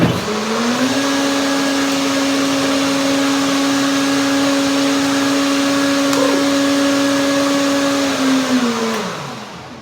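A blender whips strawberries, nectarines, curd and flaxseed into a creamy mix, its motor spinning up to a loud, steady high whine that holds evenly before winding down at the end, with no talk.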